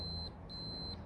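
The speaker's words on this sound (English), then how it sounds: "I put my little bit of blood on the side, and it beeps" Blood glucose meter beeping after a drop of blood is applied, two short, high electronic beeps in quick succession, clear against faint background noise.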